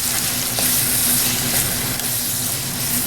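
Shrimp sizzling in bacon grease while being stirred, a loud, close, continuous frying hiss with a soft churning undertone, no voices present.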